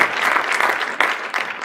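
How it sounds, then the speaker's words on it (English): Loud applause from an audience at a congressional caucus event on addiction, a dense burst of many hands clapping close by, with slight surges in intensity across the short stretch. "Let's give a round of applause to Tom McClellan."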